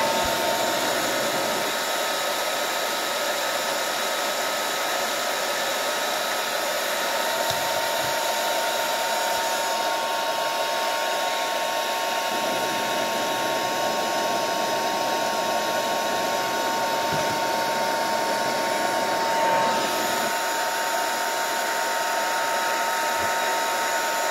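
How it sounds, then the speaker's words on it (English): A hair dryer runs continuously for over twenty seconds drying an art journal page of acrylic paint and collage, a loud steady close-up whine with slight shifts in pitch as it moves. "fast forward if you don't want to hear the dryer"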